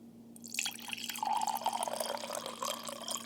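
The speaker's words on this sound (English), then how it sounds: "There's nothing better than the pour." Red wine being poured into a glass, a steady close liquid gurgle with a rising filling tone that runs continuously for a few seconds, fairly quiet and without voices.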